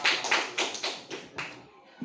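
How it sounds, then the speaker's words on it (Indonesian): A class of children claps together in a short burst of several quick, uneven claps that fade toward the end, heard in a classroom setting. "tepuk tangan dulu ya."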